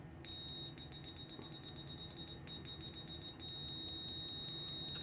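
A high-pitched electronic continuity beep from a cheap NJTY 9208T multimeter sounds almost continuously, briefly broken by quick scratchy interruptions, fairly loud and close, with no voices.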